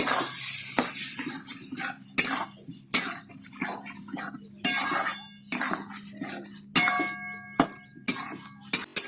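A metal spoon stirs Kashmiri chilli powder and spices in a cooking pot for chicken with cauliflower, giving a series of irregular clinks and scrapes against the pot with quiet gaps between them.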